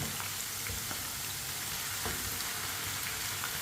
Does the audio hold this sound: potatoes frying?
yes